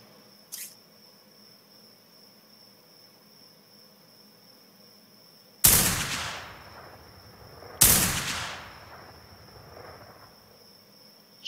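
Gunshots fired at a creature in Ark Survival Evolved: two loud, booming shots a couple of seconds apart, each ringing out with a decaying tail over a faint steady tone, plus a small click early on.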